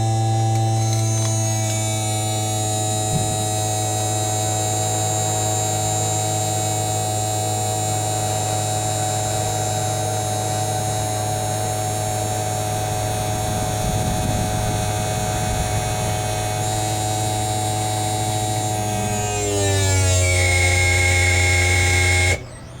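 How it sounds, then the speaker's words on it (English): The powered side jacks of a twin-axle caravan retract with a continuous electric motor hum and whine that holds steady, then shifts in pitch near the end before stopping. "Then the side jacks retract."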